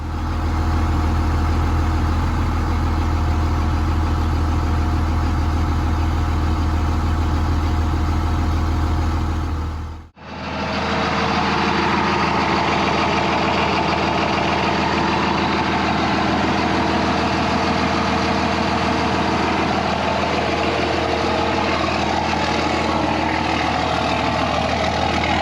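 A 2001 Dodge 2500 with a Cummins 5.9 diesel runs with a steady, loud, rumbling idle, cuts out for a moment partway through, then carries on at a rougher, busier clatter, with no talk.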